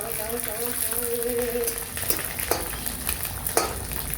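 Garlic frying in a pan, a steady broad sizzle with stir clatter and a few sharp scrapes, with people talking close by over the cooking.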